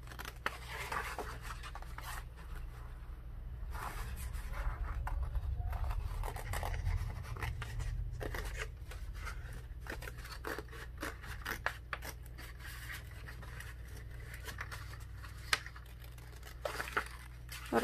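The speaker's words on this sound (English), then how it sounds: "making sure my scissors are pointing towards my paper" Scissors snip through paper in a run of quick, close cuts with soft rustling and crinkling between them, at a low, steady level.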